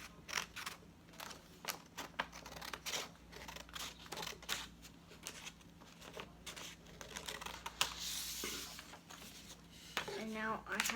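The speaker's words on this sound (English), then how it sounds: "I need to cut the piece of paper." Scissors snip through a sheet of paper in a run of short crisp cuts, close and fairly clear, with light rustling of the paper between strokes.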